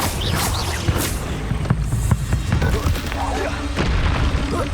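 An Incendio fire spell cast in the Hogwarts Legacy video game, loud booming bursts and crackling blasts close up, repeated over a few seconds alongside a voice.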